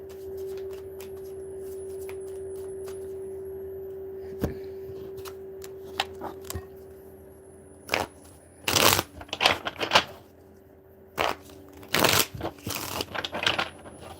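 Cards are shuffled for an astrology reading in close, crisp bursts of riffling and flicking, separated by quieter pauses with faint taps, and no speech over them.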